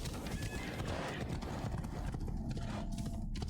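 A horse gallops in the video game Assassin's Creed Odyssey, rapid continuous hoofbeats with a whinny, loud and close, under game sound and a voice talking.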